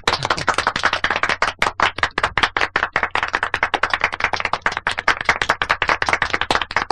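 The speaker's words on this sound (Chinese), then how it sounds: "大家鼓掌" A gathered group claps in steady, dense applause to welcome people returning from exams, a close, continuous patter of many hands with no talking.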